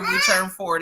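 A baby babbles and coos in high, sing-song bursts, close by and loud, with an adult voice speaking briefly.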